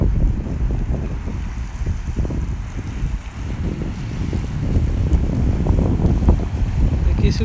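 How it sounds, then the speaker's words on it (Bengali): Strong wind gusts outdoors under a cloudy sky in Oman, a heavy low roar buffeting the microphone continuously with no pauses. "বাহিরে প্রচণ্ড বাতাস আর আকাশটা খুবই মেঘলা"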